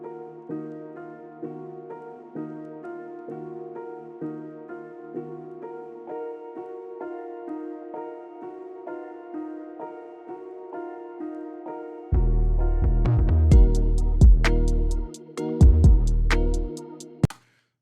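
A hip-hop beat plays without gain staging, a steady melodic keys loop that is joined partway through by heavy, booming bass and drums, with no voices.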